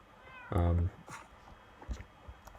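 A cat gives a single loud, drawn-out meow close by, followed by faint rustles and soft background noise in a quiet room.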